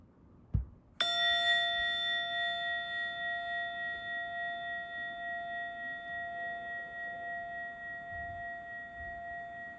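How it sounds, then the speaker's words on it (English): A single bright bell chime strikes once after a soft knock, then rings on with steady sustained tones, slowly fading in a quiet room. "in a moment, you'll hear a bell or a chime"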